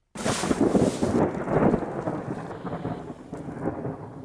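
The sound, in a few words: thunder before a rainstorm in the Colombian jungle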